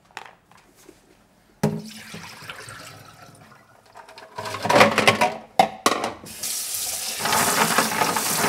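Clams being washed in water in a sink, with splashing, swishing and running tap water building in bursts and ending in a steady gushing stream, close by.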